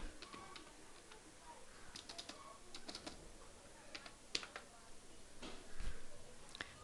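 Faint, quick keystrokes on a computer keyboard while PHP code is entered, an irregular clatter of light taps in a quiet room with no speech.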